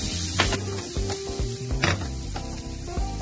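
Food grills in butter in a hot pan, crackling loudly with a dense sizzle broken by sharp pops and a few spatula scrapes over a few seconds.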